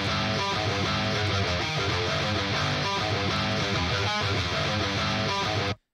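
A high-gain metal guitar tone through the JST ToneForge Disruptor plugin, scooped and distorted, plays a dense, chugging riff with palm-muted rhythmic stabs, loud and continuous for about six seconds before stopping abruptly, with no voices.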